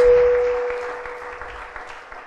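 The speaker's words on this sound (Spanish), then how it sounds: "Bien fuerte esas palmas al Señor" A church congregation claps at a Sunday service, a soft, diffuse patter of hands that fades away gradually beneath a steady held tone.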